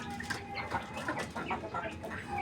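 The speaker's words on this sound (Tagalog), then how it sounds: "5 inahin to, saka yung 2 tandang" Five hens and two roosters cluck together inside their coop in a steady, busy chorus of overlapping calls with no pauses.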